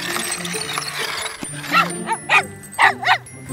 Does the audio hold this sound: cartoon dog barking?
yes